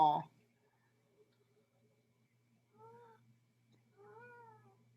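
A cartoon cat meows twice, soft drawn-out cries a second apart, after a brief louder sound at the start, with near-silence between.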